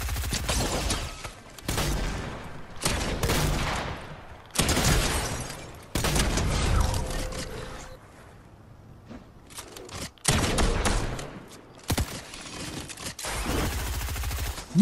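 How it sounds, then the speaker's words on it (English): Sniper and automatic gunfire in Fortnite arrive in loud bursts of rapid shots and booms, separated by short pauses, with no talking. "We got a sniper!"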